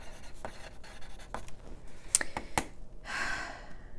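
Pen marking paper foldouts for a handmade junk journal, a few quick scratchy strokes and light taps up close, soft and intermittent, ending in a longer rubbing scratch.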